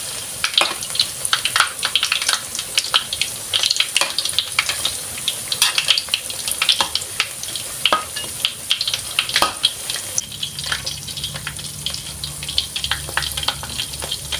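Pieces of chicken deep-frying in oil for a Thai home-style meal, a steady close crackling sizzle with dense popping bubbles throughout, a low hum entering near the end.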